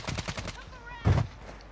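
Video-game gunfire with a quick burst of rapid shots at the start and a single heavier blast about a second later, over quiet background game noise.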